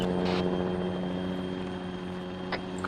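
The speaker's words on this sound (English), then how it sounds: "We are in Hawaiians helicopter." A helicopter flies in the video game ARMA 3, its steady droning rotor and engine hum sustained loudly and evenly throughout, with a couple of brief higher blips near the start and end.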